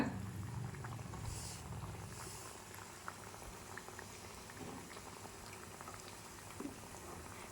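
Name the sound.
bottle gourd bajji frying in hot oil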